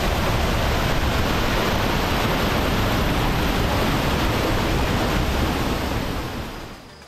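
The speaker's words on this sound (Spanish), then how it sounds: "se escucha el agua y es impresionante" Rushing water of a waterfall at a hidden natural site in San Juan, a loud, continuous broadband roar heard up close and alone, tapering off slightly at the end.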